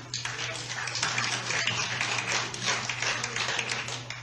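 Audience applause at a committee hearing, with a large delegation present: steady broadband clapping running throughout, fairly loud and dense, with a constant low hum underneath.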